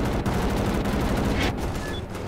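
Gunfire from a machine gun nest in the shooter game Wolfenstein: The New Order, a dense, continuous rattle of rapid shots sustained at close range for the whole stretch, with no talk over it.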